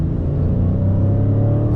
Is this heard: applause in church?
no